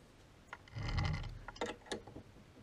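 A lathe chuck is loosened, giving a short metallic ratcheting grind followed by a few light clicks and knocks, fairly quiet and close in a workshop.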